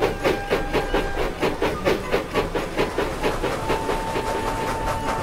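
A steam locomotive puffs steadily along a quay, its chuffs coming in a quick, even rhythm over a continuous hiss, with a faint steady tone running beneath, close by and without talk.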